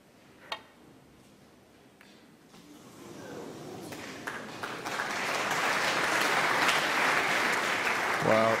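Applause from a snooker crowd at the Masters swells from scattered claps into sustained, fairly distant clapping for Ronnie O'Sullivan, preceded by a sharp knock and soft murmurs.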